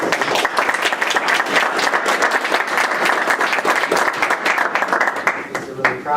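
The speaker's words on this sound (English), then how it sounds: "Let's give a round of applause." An audience claps and applauds loudly and continuously after a final presentation, a dense, even wash of many hands heard close up that thins slightly at the end.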